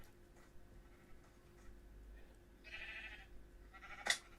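A video game sheep gives a couple of short, faint bleats near the end, set against quiet ambient game sound with a brief sharp click at the close.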